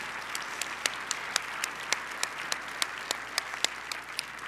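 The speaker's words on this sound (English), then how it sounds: "Please stand for a big round of applause" Audience applause fills a hall at a 2019 State of the City address: steady, dense clapping with a few louder, sharper claps standing out near the front, continuing throughout without talk.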